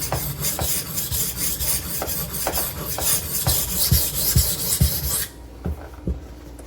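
A Benchmade Redoubt knife has its edge bevel reground from about 18 down to 16 or 17 degrees per side, giving repeated rhythmic rasping strokes up close that stop near the end, leaving only a couple of softer passes.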